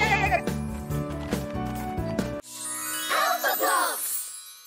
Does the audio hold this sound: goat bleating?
yes